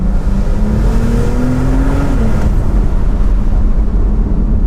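A Brabus 720 Porsche 911 Turbo S engine, tuned to 720 horsepower, roars loudly and continuously, its pitch climbing as it accelerates, with heavy road and wind noise underneath.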